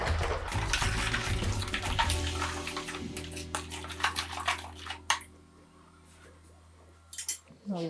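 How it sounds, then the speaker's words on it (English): Tap water runs steadily into a sink while hands are washed during mandazi preparation, a constant splashing gush with clinks that stops abruptly, leaving quiet with a few light knocks. "Clean my hands."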